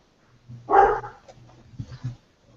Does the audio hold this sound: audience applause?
no